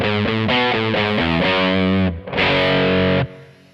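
An electric guitar through an MXR Distortion+ pedal plays a series of heavily distorted chords, gritty and loud, ending with a sustained crunchy chord that cuts off.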